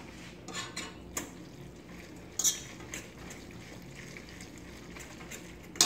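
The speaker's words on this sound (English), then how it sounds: "Now what I'm gonna do, I'm about to mix all this together" A fork mixing food in a mug makes faint, scattered clinks and scrapes against the sides, with a few sharper taps standing out over a quiet background.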